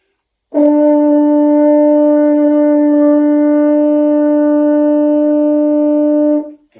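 A single sustained French horn note, an A, steady and fairly loud, held for about six seconds before cutting off, played alone.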